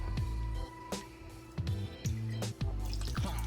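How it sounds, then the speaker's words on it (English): Worcestershire sauce poured into simmering gravy for Salisbury steak, a few short liquid splashes and drips close by in a kitchen, with a steady background hum and no talking. "add another tablespoon of Worcestershire Sauce to the gravy"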